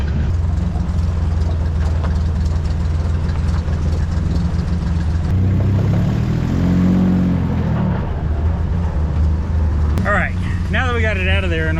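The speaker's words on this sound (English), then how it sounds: "It's already idling better than it ever has." A 1969 Jeep CJ5 Dauntless engine idles steadily with a low, even rumble throughout, and a voice speaks briefly near the end.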